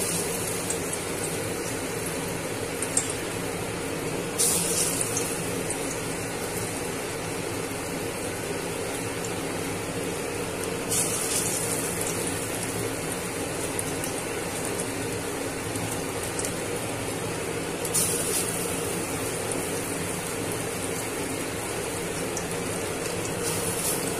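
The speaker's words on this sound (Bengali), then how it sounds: "এবার আমি কলমি শাকের বড়াটা ছেড়ে দিচ্ছি।" Water spinach fritters fry in hot oil with a steady, rain-like sizzle that holds at an even level for the whole stretch, with only faint clicks now and then.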